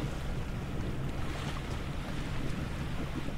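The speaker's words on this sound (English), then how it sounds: "Got 4 knots of wind, so we're motor sailing, and it's pretty tame at the moment." A sailboat motor sailing at sea in light wind of about four knots, early morning on a doublehanded passage to Malta, heard as a steady, loud rush of wind and water with no voices.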